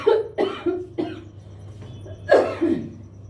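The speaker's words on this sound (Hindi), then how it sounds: "सॉरी, खांसी बहुत ज़्यादा बढ़ सी गई है" A person coughs repeatedly, with several sharp, close coughs in quick succession followed after a short pause by a louder double cough.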